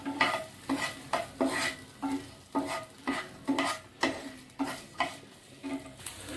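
Ginger and garlic pieces fry in a pan with regular scraping strokes of a spatula, about two per second, over a steady sizzle, close and clear with no voices.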